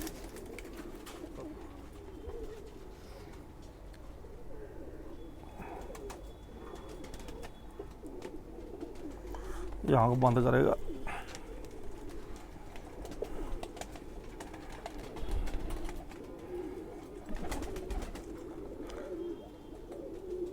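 A Khaki Chua pigeon coos close by, one prominent rolling coo standing out mid-way amid quieter bird sounds, with someone speaking Hindi briefly and faint background noise.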